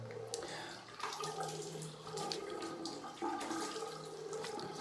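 Running tap water splashes steadily while a straight razor is rinsed under it, a close, continuous hiss of water with small shifts in the flow and no voices.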